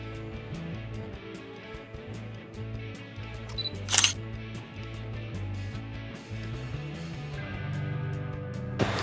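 A DSLR camera fires during an outdoor pre-wedding photoshoot beside a small waterfall, with a few faint shutter clicks and one sharp, loud click in the middle over background music and steady ambient noise.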